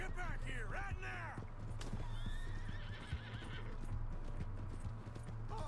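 Horse galloping and neighing in the video game Red Dead Redemption 2, a loud whinny opening over continuous rapid hoofbeats, with game music or ambience running underneath and voices talking faintly over it.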